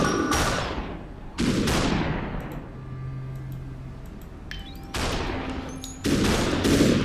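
Loud gunshots in the video game Superhot, with four sharp, heavy bursts spread unevenly across the stretch, each trailing into a long, decaying echo over a quiet background.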